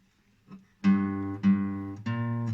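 Three plucked guitar notes from a lead guitar exercise ring out one after another, each sustaining briefly, played alone and close up.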